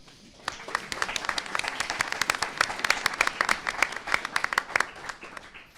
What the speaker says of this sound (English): Could you guys give yourselves a round of applause?